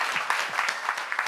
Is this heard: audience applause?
yes